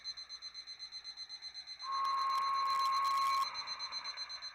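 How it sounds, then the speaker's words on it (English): Electronic beeper pulsing steadily in the background of an amateur radio satellite station, a soft repeating tone broken midway by a brief, louder continuous tone with static before the beeps resume. "Don't mind that beeping in the background."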